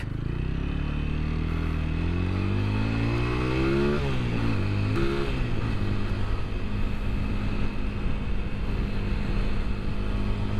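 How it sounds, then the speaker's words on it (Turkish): A TVS Apache RTR 200 motorcycle engine starts with a push-button starter and runs, revving and pulling away with rising and shifting engine tones, steady and close throughout. "Tek tuşla şöyle marş aldırabiliyorsunuz."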